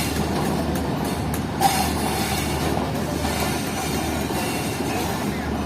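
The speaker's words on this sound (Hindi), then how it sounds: "तीनों CFI के कोचेज़ हैं जो कि अटैच होने वाले हैं अब हमारी ट्रेन के साथ" Passenger coaches being coupled onto the Fareed Express on a Pakistani rail line, heard as a steady, loud rolling rumble of railcars with a single brief metallic clank partway through.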